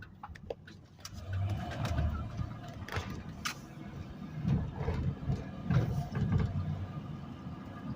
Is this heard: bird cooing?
yes